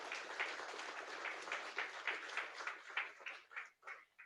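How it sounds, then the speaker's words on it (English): Applause from a small audience after a presentation about end-of-life tyres, heard faintly over a remote meeting line, thin, patchy clapping that trails off toward the end. "Could we please have a round of applause for that presentation?"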